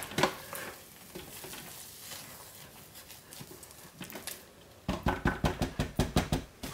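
A spatula stirs thick liquid soap paste in a pot, giving soft wet scraping and squelching at first, then a quicker run of rhythmic sticky slaps near the end, close and fairly quiet.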